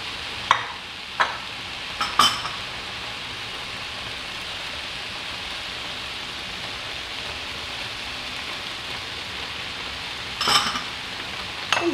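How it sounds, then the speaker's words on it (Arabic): Chicken liver and peppers fry in a pan for a quick tagine, giving a steady, even sizzle throughout. A few sharp utensil clacks come near the start and again near the end. "بعد يتقلى الفلفل تاعي شويه، نزيد الكميه تاع الكبد."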